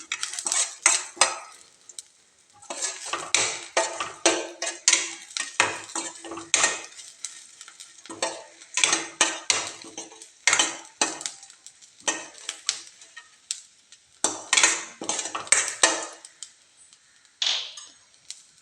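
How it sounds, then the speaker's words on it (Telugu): Cumin seeds roasting in a pan for mint chutney, a spoon repeatedly clanking and scraping the metal in quick irregular bursts, loud and close, with brief pauses. "కొద్దిగా జీలకర్ర యాడ్ చేద్దామండి దూరగా వేయించుకోండి"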